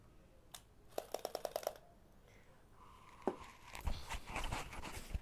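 A 1987 Yashica MD 35F film camera gives a rapid run of small mechanical clicks, then a sharp shutter snap and a longer whirring buzz from its motor winder, all heard close up.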